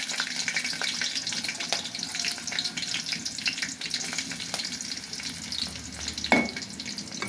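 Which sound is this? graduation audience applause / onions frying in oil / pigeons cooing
onions frying in oil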